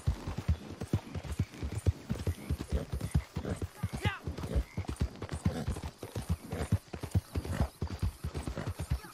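Horse hooves clip-clop in a video game, a steady close rhythmic trot of hoof beats running throughout, with a brief whinny partway through and people talking over it.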